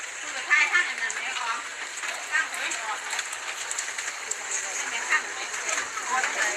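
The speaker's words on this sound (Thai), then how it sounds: "วันนี้ค่อนข้างจะฝนตกนะครับ" Steady rain patters across the whole clip, a dense hiss of drops with occasional louder splashes, no voices over it.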